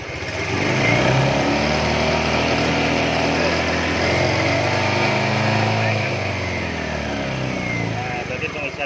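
Honda Beat FI scooter engine running close by and being revved steadily, a continuous buzzing drone under someone talking, during a charging-system check.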